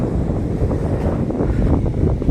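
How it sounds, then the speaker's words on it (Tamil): Sea waves and wind at Marina Beach, Chennai, a loud, continuous rush of surf blended with wind buffeting the microphone, no voices. "நல்லா சவுண்டு இங்கேவே பயங்கரமாக கேட்குது கடலை பார்த்துட்டேன்"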